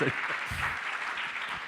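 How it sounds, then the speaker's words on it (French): An audience at a round-table session on digital health applauds with moderate, even clapping while voices murmur and talk underneath. "on applaudit Marina"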